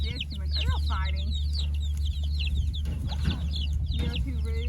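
Chickens in a farm chick pen clucking and squabbling, with busy overlapping clucks and squawks close by over a steady low hum.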